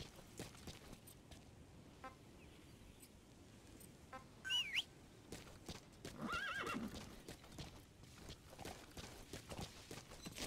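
In Metal Gear Solid V: The Phantom Pain, a horse's hooves clip-clop steadily on the ground while it lets out a short whinny midway, with faint birds in the open air around it.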